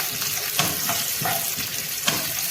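Cashews and raisins frying in hot ghee for a green gram payasam, a continuous close sizzle broken by several stirring scrapes at uneven intervals.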